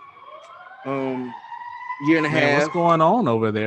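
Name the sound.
sirens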